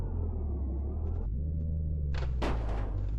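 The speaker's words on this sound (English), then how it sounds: "Might have to knock this sign over." A truck in Euro Truck Simulator 2, a Kenworth K100, knocks over a roadside sign amid steady engine rumble, with a sharp crash-like burst of noise partway through over the continuous drone.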